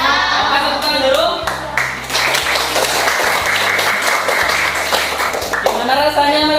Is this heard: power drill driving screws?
no